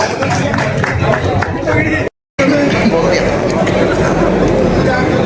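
A crowd claps and cheers to welcome politician Naveen Jindal at a rally, a dense continuous roar of applause and chatter with a short dropout partway through.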